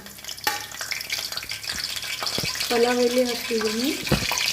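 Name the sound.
bay leaves sizzling in hot Freedom oil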